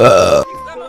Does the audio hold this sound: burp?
yes